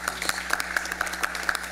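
Applause at a town meeting: a crowd claps steadily at an even, moderate level from a short distance, the claps blending into a continuous patter with no voices on top.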